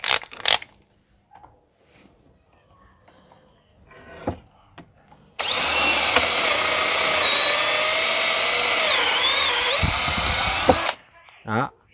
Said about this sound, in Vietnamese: Rồi, khoan thử cho anh em xem nha.